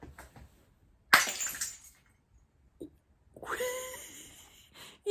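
A handmade ceramic piece is dropped and smashes, a single sharp crash with a brief scattering tail, followed later by a quieter rattle and a faint tonal ring as pieces settle; no talk.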